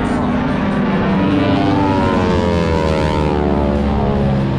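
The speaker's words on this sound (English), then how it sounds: "T6 is in formation." T-6 propeller trainers fly in formation over the Atlantic City airshow, their engines a loud, continuous droning roar with a slowly shifting pitch as they pass overhead.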